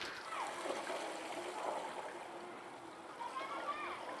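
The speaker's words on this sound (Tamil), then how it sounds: "தண்ணி மேலேருந்து கீழே வரைக்கும் ஃபுல்லாக போய் தரையில் ஓடணும்" Water runs down a newly built brick wall and onto the ground during curing, heard as a continuous splashing, trickling flow with some speech over it.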